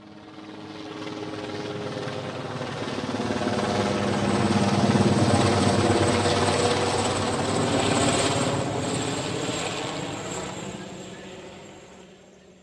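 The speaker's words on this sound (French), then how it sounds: "L'hélicoptère." A helicopter effect from a sound lotto game: a steady, droning rotor thrum with a constant chopping pulse that swells louder toward the middle and then slowly fades, heard alone.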